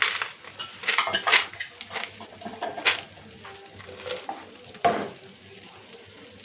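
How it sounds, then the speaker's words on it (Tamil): Butter melting and sizzling in a pan, with bright clinks and scrapes of a spoon against the metal, loud near bursts over a soft steady fry. "நல்லா பட்ரு மெல்ட் ஆகி வரட்டும்"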